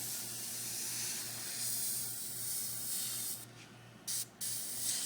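An airbrush, a Badger Anthem, sprays paint in a steady close hiss that holds for several seconds, then cuts off briefly twice as the trigger is released and pulled again.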